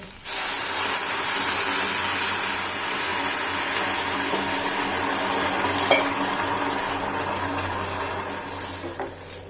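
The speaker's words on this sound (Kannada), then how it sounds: "ಒಂದು ಸ್ವಲ್ಪ ನೀರು" A little water goes into a hot pan of snake gourd seasoned with salt and jaggery, setting off a sudden loud sizzle that holds as a steady, close hiss with a faint tick partway through.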